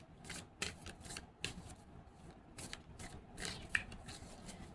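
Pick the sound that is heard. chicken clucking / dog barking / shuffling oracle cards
shuffling oracle cards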